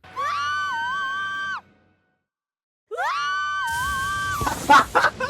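Two long, loud cartoon screams from a My Little Pony episode, each a sustained wavering shriek separated by a second of silence, the second trailing into noisy clatter and shouts.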